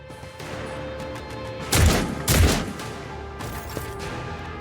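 A powerful gun fires in the video game Rogue Trader, two heavy, booming shots about half a second apart that rise over a steady background hum and each trail off with a short rumbling tail.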